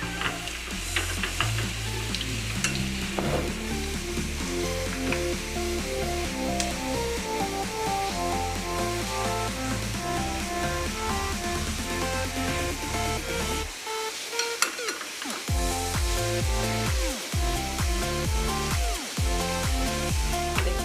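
Garlic sizzles steadily in hot ghee, browning lightly, with a continuous frying hiss under a loud background music track.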